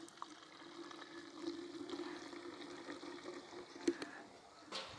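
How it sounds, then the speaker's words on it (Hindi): Water poured into a plastic bottle holding about 100 ml of car shampoo, mixed for washing a Hyundai Verna. The pour runs as a steady, moderately close trickle for about five seconds, with a few small knocks. "ये देखो, ये मैं पानी लेकर आया हूँ और इसको ऐसा डालेंगे।"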